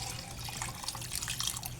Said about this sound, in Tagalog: Tapos, dagdagan natin ng tubig.